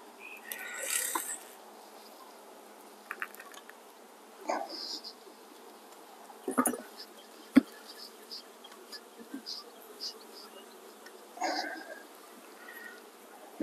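Honeybees buzz around an open hive with a double screen bottom board, heard as faint, scattered buzzes and brief fly-bys at low volume, with no talking.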